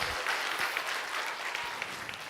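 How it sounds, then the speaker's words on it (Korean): A church congregation applauds during a Sunday service, a soft, steady patter of many hands from a distance, continuous to the end. "우리 믿음을 보여준 준혁이한테 박수를 격려하겠습니다"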